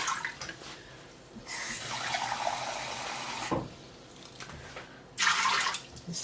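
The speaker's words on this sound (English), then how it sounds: "Actually, I might put 3 cups of hot water in here." Hot water is poured into an Instant Pot in two separate pours, each a steady splashing stream of several seconds, with a quiet pause between them and no talking.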